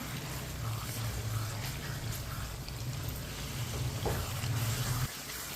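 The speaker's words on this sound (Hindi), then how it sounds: "मीडियम आंच पर 1 मिनट के लिए इसी तरह मिक्स करते हुए पका लेते हैं।" Aloo gobhi curry cooks on medium heat in a pan, a steady low sizzle and bubbling with faint stirring scrapes, continuous and moderately close before cutting off at the end.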